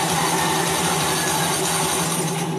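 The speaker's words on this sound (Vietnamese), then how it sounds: "Rồi nổ máy đây." A Honda Vision scooter with a stalling fault, its engine starting and idling with a steady, close mechanical clatter and ticking that runs evenly throughout at constant loudness, without any talk over it.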